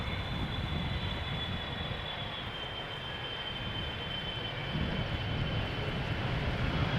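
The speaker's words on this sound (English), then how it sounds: "KLM 598 arriving from Cape Town." A KLM jet airliner arriving from Cape Town at an airport gives a continuous low rumbling roar at moderate distance, fairly faint and steady with a slight swell toward the end.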